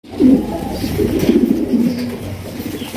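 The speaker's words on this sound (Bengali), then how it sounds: "বামে যেটা ডাকাডাকি করতেছে এটা হচ্ছে নর" A male Lahori pigeon coos nearby in a loud, throaty, rolling call lasting about three seconds.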